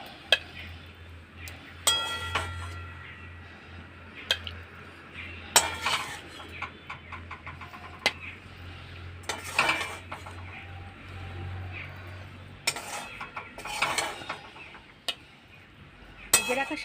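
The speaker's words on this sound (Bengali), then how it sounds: "এবার আমি শাকটা একটা পাত্রে তুলে নিচ্ছি।" Fried bethua greens are scraped from a metal pan into a bowl with a spatula: irregular close clinks, scrapes and knocks of utensil on cookware, separated by quiet gaps, with no talking.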